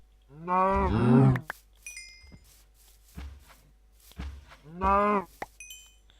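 A cow moos in the Minecraft video game, sounding twice as loud, drawn-out calls a few seconds apart, with faint clicks and short game sounds in the gaps.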